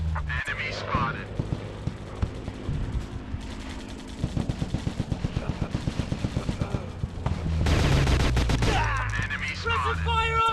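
Rapid bursts of automatic gunfire rattle in a video game, mixed with a game soundtrack and shouted character callouts, ending in a loud sustained blast.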